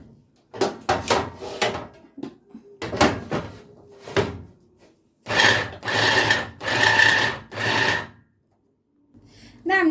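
Vegetables being minced in a home kitchen, likely potatoes and peppers, in bursts of loud grinding or chopping that start and stop in irregular spells, with short quiet gaps between them.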